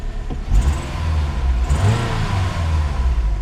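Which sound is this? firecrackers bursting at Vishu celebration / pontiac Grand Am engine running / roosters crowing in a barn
pontiac Grand Am engine running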